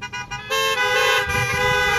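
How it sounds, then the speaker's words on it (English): Car horns honk together in a burst of overlapping toots, loud and sustained for about two seconds after a brief stuttered start, with no talk over them. "We clap for the Lord, we honk for the Lord."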